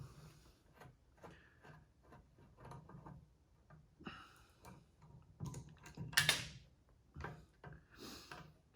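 A Phillips screwdriver backs screws out of the carburetor on a Briggs engine tiller's rusted gas tank, making faint, close clicks and small scraping ticks in an irregular rhythm, with one sharper metallic clatter partway through.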